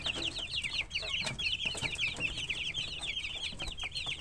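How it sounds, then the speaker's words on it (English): Young chickens about five weeks old, a bearded breed kept alongside quail, cluck and chirp repeatedly in quick high bursts, close and fairly soft, with no talking. "That is one of the chickens we kept that was hatched about 5 weeks ago"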